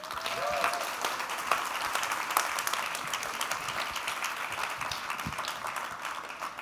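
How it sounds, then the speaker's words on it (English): An audience in a tent applauds Formula One world champion Lewis Hamilton, a steady, moderately loud wash of clapping that holds throughout with a faint voice briefly over it. "a huge round of applause for the world champion"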